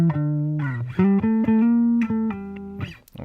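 A natural minor scale played over two octaves on a sustained, buzzy electronic tone, each note held in a steady stepwise sequence, loud and alone.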